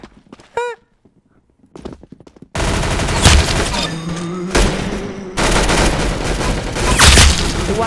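Rapid gunfire in a shooting video game, loud, dense bursts of shots over a continuous game soundtrack, preceded by a brief quieter stretch with a short chime-like tone.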